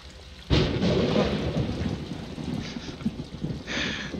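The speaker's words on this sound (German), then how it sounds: "Jetzt erschrecke ich mich sogar schon vor dem billigsten Donnergeräusch." Thunder rumbles in the horror video game Outlast, a sudden loud crack followed by a long rolling roar mixed with steady rain, swelling again near the end.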